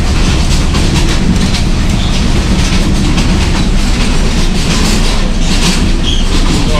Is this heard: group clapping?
no